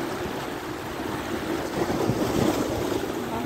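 Waves wash and surge steadily along Jumeirah Beach under a breezy, continuous rush of wind, with no one speaking.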